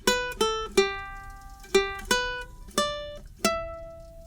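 A ukulele plucks a short melodic phrase, about eight separate notes with ringing decays, played clearly and alone at a moderate, slightly uneven pace.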